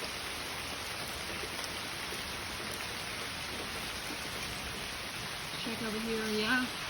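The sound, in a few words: rain falling on a homestead after drought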